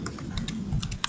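Rapid typing on a computer keyboard, a steady run of light close key clicks with a few sharper strikes and no voices.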